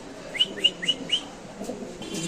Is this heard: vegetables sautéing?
no